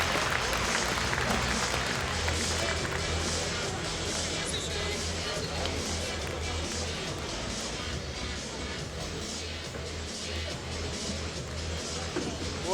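A St. Petersburg crowd at an M-1 Challenge MMA event gives a fighter sustained, dense applause. It rolls on evenly, with a commentator talking over it.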